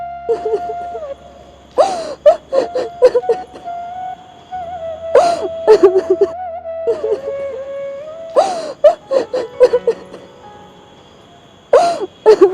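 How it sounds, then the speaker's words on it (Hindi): Someone cries and wails in repeated sobbing bursts over about twelve seconds, loud and close, with a steady tone running underneath between the sobs. "किसी के रोने की आवाज आ रही है वहां से"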